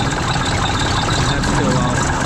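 The engine of a 1974 Mack R Model truck idles with a steady, dense rumble close to the microphone, loud and continuous throughout the brief stretch, with someone talking over it.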